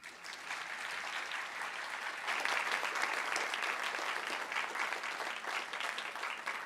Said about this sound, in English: let's give Santa Claus Inc. and a huge SBCUSD round of applause